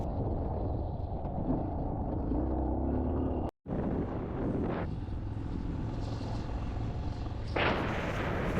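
Adventure motorcycle ridden fast along a forest trail. Its engine roars steadily close to the microphone with heavy wind buffeting, broken by a brief dropout near the middle.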